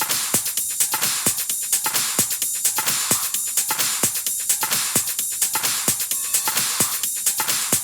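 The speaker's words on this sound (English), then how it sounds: "if you hear the loops back in Logic, it sounds something like this." Electronic dance drum loops played back in Logic with EQ, a driving pattern of kick and sharp percussive hits repeating at a steady, even tempo, loud and dense with no voices.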